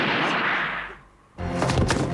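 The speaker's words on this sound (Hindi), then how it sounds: "ये तो गोली चलने की आवाज थी।" A loud broadband blast bursts in after a brief lull, following a stretch of muffled background noise; a single sharp report with rumbling tail.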